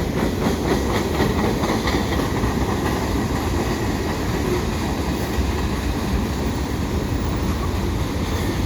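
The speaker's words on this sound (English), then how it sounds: "I was waiting for a westbound CP train, so I wasn't expecting this eastbound" A train rolls steadily past nearby, its continuous rumble and rattling wheel noise filling the air at an even loudness throughout.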